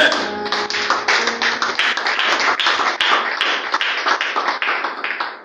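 A church congregation claps together in a steady, dense rhythm during worship, loud and close, with voices briefly audible at the start.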